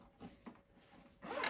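A zip pocket on a Coach x Basquiat Dempsey 40 leather-trimmed bag is unzipped in one short, quiet, close pull, heard alone.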